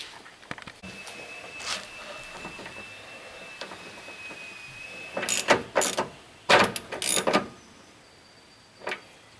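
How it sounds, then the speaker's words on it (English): A hand ratchet tightens bolts on a 1994 Chevy truck's radiator shroud, giving several short bursts of quick clicking near the middle, with quieter knocks and a faint steady tone between. "Then we go ahead and install the rest of the bolts"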